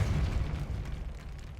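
A Depulso spell blasts rocks apart in Hogwarts Legacy, a deep, booming burst that starts loud and fades away over about a second and a half.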